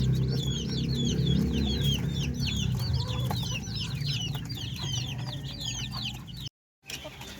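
Several young Orpington chickens cluck and chirp continuously, close and fairly loud over a steady low farmyard rumble, with a brief dropout near the end.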